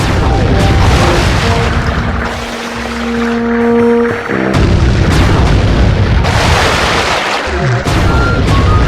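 Boat ramming explosion in a Sly Cooper video game, loud continuous booms and crashing blasts over a churning water-engine rumble with tonal game music and effects, dense and full throughout.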